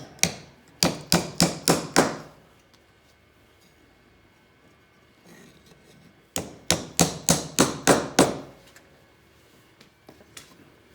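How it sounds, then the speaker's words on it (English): Two quick bursts of sharp soft-blow hammer strikes driving 1/4-inch dowel pins, about six strikes each, ringing close and loud, separated by a quiet pause. "Just drive them in with a soft blow hammer."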